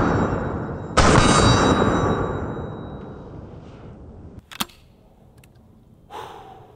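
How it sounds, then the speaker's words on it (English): A double-barrel sawed-off shotgun fires mini shells outdoors in one sharp, loud blast that rings and decays, followed by quieter clicks and handling noises. "So mini shells are extremely soft shooting"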